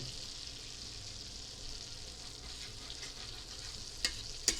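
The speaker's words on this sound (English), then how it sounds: "you're going to scrape up as much of them little brown bits at the bottom as you can" Butter sizzles steadily in a pan while browned bits are scraped from the bottom, with a continuous close frying hiss and a couple of sharp scraping clicks near the end.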